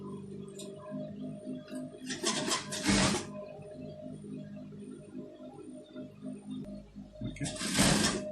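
A sewing machine stitches fabric for a tailored sleeve, with quiet, steady mechanical ticking and two louder bursts of rapid running, heard close and without talk.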